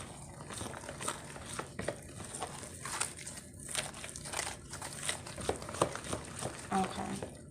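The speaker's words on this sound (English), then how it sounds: "Get my napkin and smooth the grease around in this pan." A napkin rubs grease around a cast pan for Mexican cornbread, making soft, irregular crinkling and scuffing strokes, quiet and close.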